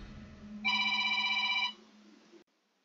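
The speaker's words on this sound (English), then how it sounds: "Give me a sec, guys, I got a phone call." An electronic ringtone for an incoming phone call trills in a steady pulsing burst for about a second inside Tomb Raider (2013) on PC, clear and close over a low game hum, then stops.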